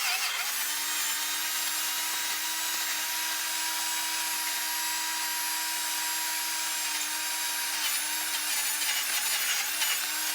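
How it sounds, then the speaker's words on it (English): A battery power drill runs steadily for the whole stretch, a close, continuous high-pitched motor whine with a gritty grinding edge and no pauses. "My drill battery is dying."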